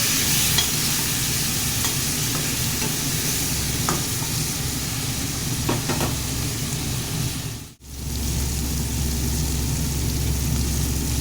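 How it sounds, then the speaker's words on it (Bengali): Food being fried and stirred in a pan with salt and turmeric, a loud, steady sizzle with scraping stirring strokes, briefly cutting out near the end before the sizzle resumes. "এটা দিয়ে আগে ভালো করে লাল করে ভেজে নেব।"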